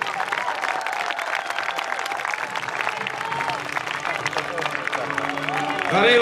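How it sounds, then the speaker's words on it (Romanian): Outdoor crowd applauding and cheering the winner of a pankration bout at a Roman festival reenactment in Alba Iulia, a steady mix of clapping and crowd noise throughout that swells louder at the very end. "Haideți să-l aplaudăm cu toții!"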